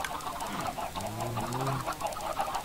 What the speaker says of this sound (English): Oh, look at all those chickens.